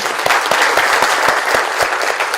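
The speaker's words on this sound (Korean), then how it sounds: "다시 한번 박수 부탁드릴까요?" An audience at a Korean regional cooperation event led by the land ministry gives a short round of applause, a loud, even wash of many hands clapping throughout.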